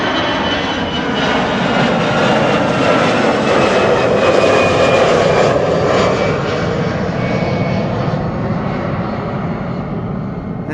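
An EasyJet jet airliner takes off from runway 24 at Amsterdam Schiphol, bound for London Luton: a loud, sustained engine roar holds steady throughout with a faint whine on top, alone with no talk.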